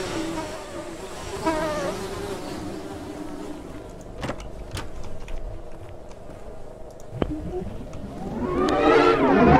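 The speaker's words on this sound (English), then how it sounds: "You hear the buzzing of flies coming from the woman and the apples." Flies buzz steadily around a woman and apples in the horror video game Island Woe, a soft continuous drone with a few sharp clicks and a louder swell at the end.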